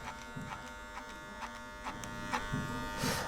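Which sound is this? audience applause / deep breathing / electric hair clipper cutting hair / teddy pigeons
electric hair clipper cutting hair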